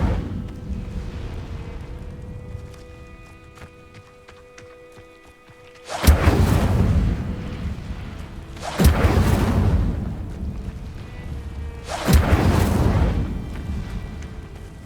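Incendio fire spell bursting three times in Hogwarts Legacy, each a loud whooshing blast of flame at roughly three-second intervals after a quiet, humming lead-in.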